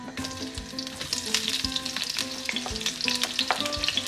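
Onions dropped into hot vegetable oil crackle and sizzle loudly and close by, with intermittent stirring scrapes in the pan and no talking.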